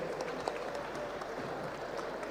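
Steady applause from a crowd at a political event in Rosario, Argentina, a dense even patter of clapping held at a moderate level throughout, with no voices standing out.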